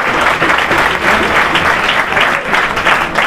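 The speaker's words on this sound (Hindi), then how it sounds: "एक बार जोरदार तालियां" Loud, dense applause from a crowd at a school opening ceremony, sustained and close with an even wash of clapping throughout.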